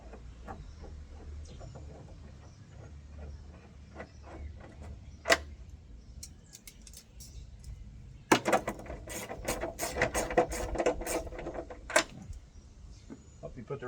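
A ratchet wrench turning a socket on washer bolts during a rear window install, with quiet clicking bursts, then a busier run of sharp ratcheting clicks and knocks, close by.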